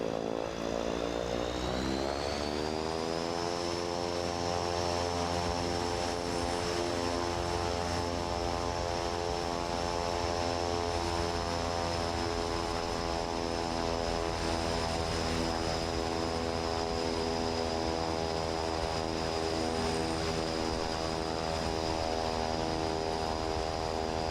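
Propeller engines of a Cessna SkyCourier in Microsoft Flight Simulator spool up over the first seconds, then settle into a loud, steady droning hum with a high whine, continuous and close, with no talk.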